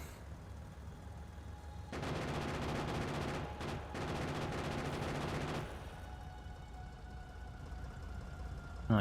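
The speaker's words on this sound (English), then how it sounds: "These machine guns, they're just machine guns, but they can take care of that." Machine gun turrets firing in Factorio, a dense rapid stream of gunfire that starts abruptly, runs steadily for several seconds with a brief break, then cuts off into quieter background hum.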